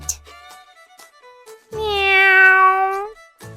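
A drawn-out meow with clear pitch, preceded by brief soft sounds, rising in the middle of the short stretch, voiced in a children's story about following a cat to the stairs; it may be a person imitating the cat.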